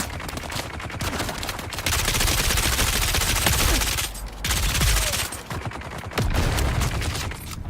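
SMG gunfire in the Dune: Awakening video game, sustained rapid automatic bursts fired close and loud, with short pauses between three long strings of shots.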